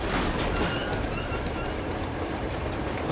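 A moving train in the video game Uncharted 2, with a steady, continuous rumble and a faint rhythmic clatter of wheels on rails throughout, close and fairly loud, with no talking over it.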